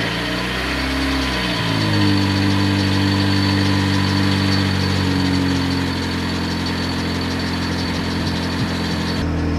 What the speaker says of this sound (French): elle a démarré correctement, elle ralentit un petit peu au début, normal